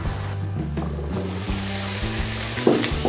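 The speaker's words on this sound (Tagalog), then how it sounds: "So piniprito ko talaga yung aking patatas pati carrots dahil ayoko siyang madurog." Potatoes and carrots for pork afritada fry in a pan with a steady, close sizzle and a few soft knocks, nothing else heard.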